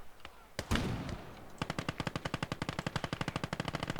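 Gunfire in the video game Conquest Enhanced: a couple of single shots, then a long fast burst of automatic fire with evenly spaced cracks, fairly close and sharp.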